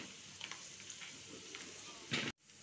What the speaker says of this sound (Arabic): ها هي الدجاج كيتقلى